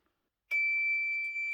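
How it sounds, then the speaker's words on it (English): A sublimation oven signals it has finished with a single steady high-pitched electronic beep that starts abruptly and holds, loud and clear in otherwise quiet surroundings. "there's that beep letting us know that it's done again"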